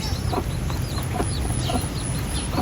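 A broody hen sitting on eggs with newly hatched chicks gives a run of soft, rhythmic clucks close by over a steady background hiss.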